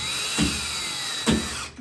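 Screws being driven tight into a swinging screen door during installation: two short ratcheting whirs about a second apart, close by, in a quiet room.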